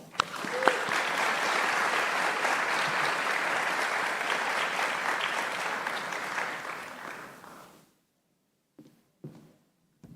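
Audience at a community town hall on school funding breaks into sustained, loud applause lasting about eight seconds, then it fades to near silence with a couple of faint soft knocks.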